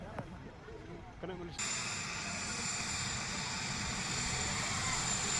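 A helicopter's engine and rotor noise swells into a loud, steady broadband roar after a quieter start, with faint voices underneath.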